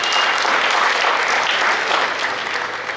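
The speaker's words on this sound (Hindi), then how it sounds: "जरा माँ के लिए बहुत जोरदार तालियां।" Loud, full audience applause at a celebration of a couple's 51 years together, a thick continuous roar of many hands clapping close by that holds steady and eases slightly at the end.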